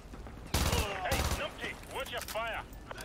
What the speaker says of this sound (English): the fucking vector sounds so mean though